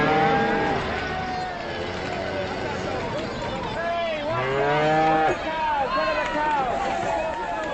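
Cows low and moo several times in a 1953 film scene, drawn-out calls overlapping at mid distance against a dense, busy background with people talking.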